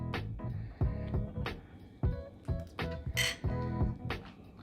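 Thai chicken salad tossed with spicy lime dressing in a bowl, with repeated close clinks and knocks of utensils against the bowl in an irregular rhythm and a brief brighter clatter midway.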